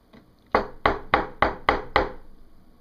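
Six sharp, evenly spaced knocks land in quick succession on a hard surface, each one crisp and close, with nothing else in the background.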